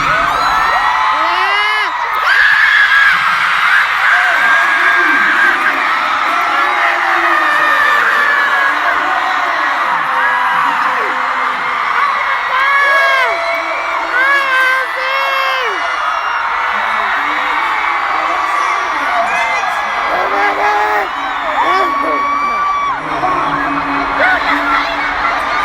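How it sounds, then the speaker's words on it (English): A huge crowd of fans screams and cheers nonstop inside SoFi Stadium during a concert, a dense, loud, sustained roar of high voices with rising whoops throughout. "we can actually hear Army cheering"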